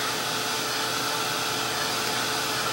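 Hair dryer blowing on damp acrylic paint in an art journal, a steady loud whoosh of fan and airflow running continuously throughout with no talking.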